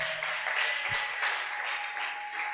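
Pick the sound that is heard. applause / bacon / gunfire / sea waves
applause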